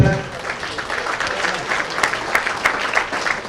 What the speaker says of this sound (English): I'll have a round of applause for all the competitors.